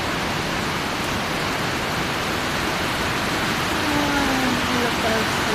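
Heavy rain pours down in Paniqui, Tarlac, a dense, even hiss that holds steady and close throughout with no break.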